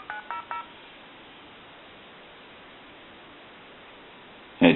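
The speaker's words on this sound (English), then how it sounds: "And it dialed that number." A Spirit of St. Louis speakerphone telephone auto-dials a stored time-and-temperature number: three quick touch-tone beeps at the start, then a long stretch of faint line hiss, ending in a sudden loud crackle of sound through the speaker.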